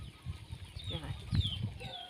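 Chickens cluck around a rural farm coop in Thailand's Isan countryside, with several short, close clucks and squawks scattered over a low murmur of background noise.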